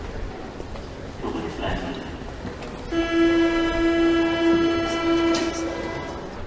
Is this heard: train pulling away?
yes